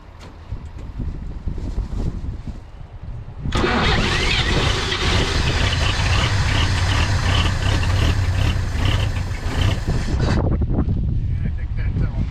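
A small engine with a failing carburetor runs roughly and loudly up close, roaring steadily for several seconds after a quieter start, with wind buffeting the microphone throughout.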